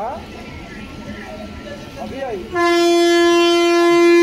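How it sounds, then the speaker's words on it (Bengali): A train horn blasts long and loud as a train departs a nearly empty station, following a rumbling stretch of engine and track noise with faint squealing. "ট্রেন ছেড়ে দিয়েছে আমাদের"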